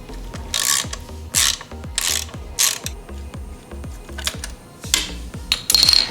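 A ratchet loosens a 10mm set nut during a restoration, clicking in a series of short, loud bursts of rapid pawl ticks separated by brief pauses, with a small metallic clink near the end.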